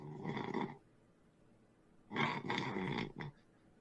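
Deep, rasping snores in two bursts: one long breath, a pause, then a longer rumbling snore followed by a short snort, heard close and alone.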